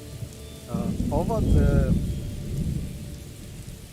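Rain falls in the video game Morrowind, a continuous hiss and patter with a low rumbling undertone that swells slightly midway, while someone speaks briefly over it.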